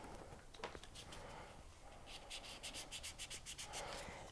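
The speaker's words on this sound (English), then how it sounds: "we need to sand the back of it" The back of a small sterling silver clay tab is sanded by hand, giving faint, close rubbing and scratching strokes that quicken into short rhythmic bursts in the second half.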